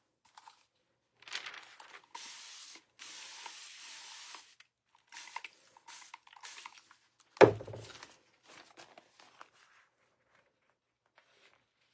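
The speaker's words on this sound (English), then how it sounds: "gonna spritz the back of it before I lay it down" A spray bottle spritzes the back of a tissue paper piece during a vintage window makeover, giving a few short, faint, airy hisses close by with a thunk in between, and no talk.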